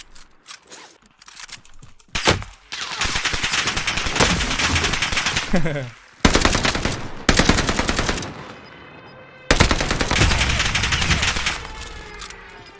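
A Cooper Carbine machine gun in the video game Warzone Pacific fires loud, rapid bursts, several long sustained strings of shots separated by brief gaps, with faint mechanical clicks between volleys.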